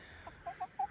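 Giant Muscovy ducklings give three or four short, soft peeps in quick succession, close by, over a quiet background hum.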